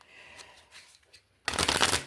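Tarot cards are shuffled at close range: quiet handling and faint movement at first, then a loud, dense riffling burst that runs to the end.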